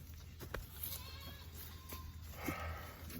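Goats bleat on a farm, with a few short calls over faint background noise, fairly quiet and unaccompanied by speech.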